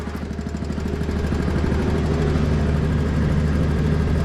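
A horizontal directional drill rig installing fiber conduit drones steadily nearby, a continuous low rumbling engine note that holds even and loud throughout with no voices.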